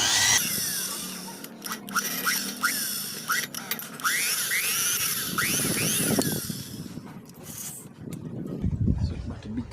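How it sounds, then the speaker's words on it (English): A power drill bores into a broken 6mm bolt up close, with a whining motor, repeated squealing chirps from the bit, and uneven bursts as the drilling starts and stops. "and we drill one side."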